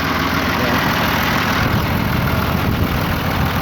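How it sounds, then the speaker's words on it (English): A John Deere 2955 tractor engine idles in a steady, loud, low rumble with a constant drone and no changes in speed across the short stretch. "it's been a really good tractor."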